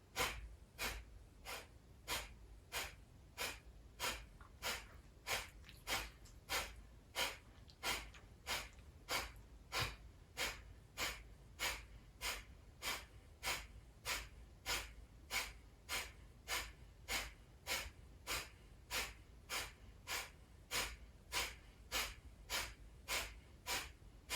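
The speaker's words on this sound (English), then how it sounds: "as we take an inhale, we start our pumping." Rhythmic pumping breaths in a yoga breathing exercise, hands on the belly: a steady train of sharp, forceful exhalations about twice a second, close and even, continuing without talk for the whole stretch.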